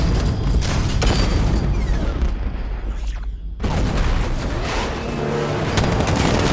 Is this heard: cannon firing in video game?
yes